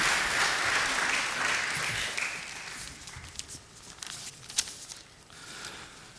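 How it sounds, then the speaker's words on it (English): Warm audience applause for panelists at a climate change and migration panel at Oslo Pax 2019, a full clapping crowd that fades after about two seconds into scattered claps, footsteps and light taps. "Please give them a warm applause."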